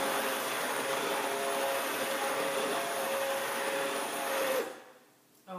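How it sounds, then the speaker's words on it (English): An electric mixer blends homemade BBQ sauce with chopped vegetables, giving a steady, fairly loud motor whir that holds evenly for several seconds before it is switched off and winds down near the end. "So as I stir with my mixer, I'm going to see how fine my vegetables have been chopped."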